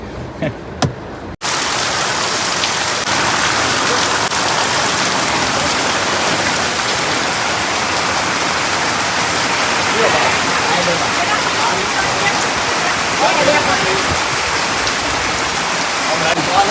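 Heavy rain pours down in a loud, steady, dense roar that starts abruptly after a brief quieter moment and continues unbroken to the end.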